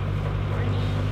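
A sailboat's inboard motor runs with the revs raised for steering while underway off the Scottish coast, a close, loud, low throbbing drone that holds steady and alone through the short stretch.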